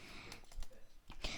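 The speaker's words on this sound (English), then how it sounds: "I have a Razer Black Widow Chroma version 3. It's quite a good keyboard for Minecraft" Rapid clicky keystrokes on a Razer BlackWidow Chroma V3 mechanical keyboard, a burst of sharp close taps with uneven rhythm and a brief pause midway.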